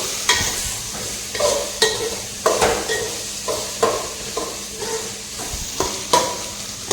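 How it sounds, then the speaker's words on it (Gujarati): Chopped onion tempering crackles in hot oil while a spoon stirs it in a pan, giving a series of sharp scrapes and clatters roughly every second over a continuous sizzle, close and fairly loud. "ડુંગળીના વઘારિયા નાખી દીધા."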